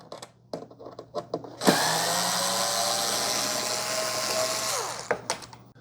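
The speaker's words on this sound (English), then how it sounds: "So I'm going to take out these 5 screws." A power driver backs Phillips screws out of a Keurig K-Duo K5100 coffee maker. Light taps and clicks lead into one sustained, close whir of about three seconds, then more scattered clicks.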